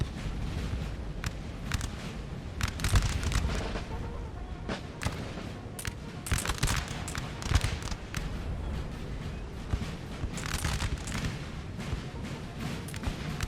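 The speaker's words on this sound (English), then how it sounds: "Spanish soldiers being shot in the back." Musket volleys in a Napoleon: Total War battle between French and Spanish troops, scattered crackling shots and rolling volleys popping at irregular intervals, fairly distant and faint over a continuous battlefield din.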